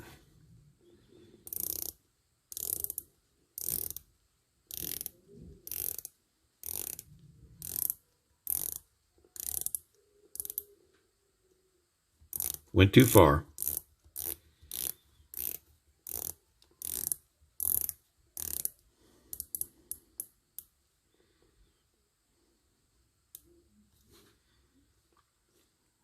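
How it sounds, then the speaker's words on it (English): Sharp ratcheting clicks in quick bursts as the bezel of a Heimdallr Shark Submariner watch is turned, pausing between rotations, with a brief murmured remark partway through; close and crisp. "I'm going to shut up so you can hear the bezel action while I'm turning it."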